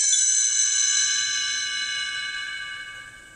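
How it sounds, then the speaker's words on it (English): A bright page-turn chime rings once and sustains, its clear metallic tones slowly fading over a few seconds with nothing else around it. "You will know it is time to turn the page when you hear the chimes ring"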